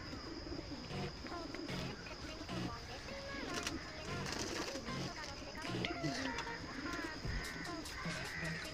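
Pigeons kept for sale at a home coo in repeated low, throaty pulses, mixed with chirps and background bustle, while someone talks over them.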